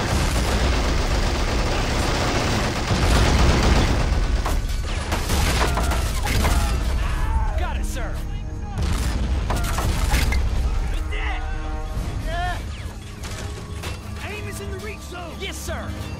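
Dense gunfire and booming artillery explosions rattle continuously in a war video game, loud and layered, with shouted voices mixed into the battle.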